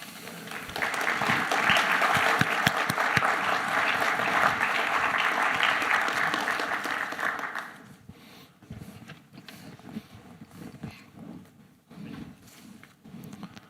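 Audience applause welcoming a lecturer to the Paul B. Henry Lecture, a dense steady clapping for about seven seconds that stops abruptly, leaving a quiet room with faint rustling.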